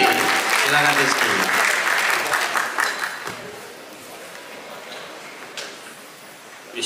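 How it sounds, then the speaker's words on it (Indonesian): Crowd applause greets a comedian at a stand-up roasting competition, a loud burst of many hands clapping over speech that thins out and fades under talk. "Kita kasih tepuk tangan buat Rizky Sandi"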